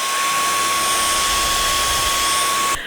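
A Hoover vacuum cleaner runs steadily with a loud, constant whining roar and a high motor tone, close by, then cuts off abruptly near the end.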